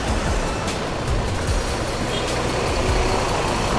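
A Gumarang Jaya Skyliner bus idles loudly while loading passengers at the Cibinong agent stop, with a dense, steady diesel rumble and broadband roar throughout.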